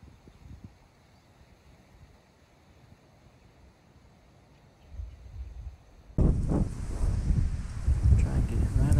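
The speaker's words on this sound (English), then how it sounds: "Of course the wind's gonna blow as soon as I try that." Wind gusting during cold-weather winter fishing outdoors: faint airy background at first, then a sudden loud burst of buffeting wind noise striking the microphone for the last few seconds.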